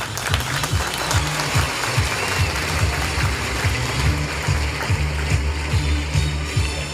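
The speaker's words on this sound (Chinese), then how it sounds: "好，掌声鼓励。" Audience applause at a Hakka stir-fry cooking competition final, steady dense clapping from a crowd lasting throughout, loud and continuous with no talk over it.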